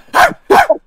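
A man imitates a dog with two short, loud barks in quick succession, close up and voiced in a gruff woof style.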